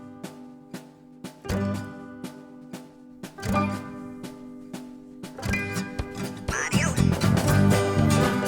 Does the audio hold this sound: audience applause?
no